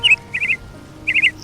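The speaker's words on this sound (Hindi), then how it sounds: "और जंगल फिर से चहचहाने लगा।" Cartoon birds in a forest give short bursts of high chirping tweets, two clusters of quick repeated notes separated by a pause, clear and fairly close with no talk.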